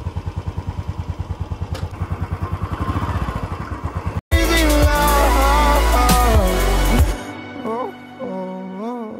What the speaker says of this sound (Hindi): हम जा रहे हैं बाइक से ऊपर तक